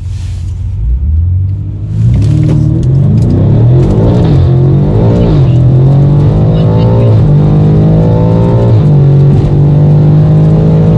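A Stage 3 tuned 1000 BHP BMW F90 M5 launches hard in a half-mile race, its engine roaring loud and close as it climbs through rising revs with clear gear-change dips, then holds a sustained high-pitched howl.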